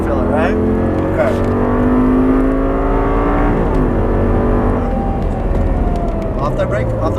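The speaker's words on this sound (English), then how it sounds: "Wait on that throttle. Squeeze on that throttle." An Audi R8 on a track accelerates under throttle, its engine note droning loud and steady with rising harmonics as an instructor talks over it throughout.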